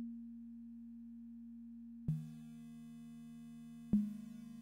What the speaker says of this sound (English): which is the most basic sine wave harmonic,